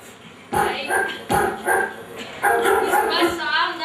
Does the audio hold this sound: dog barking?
yes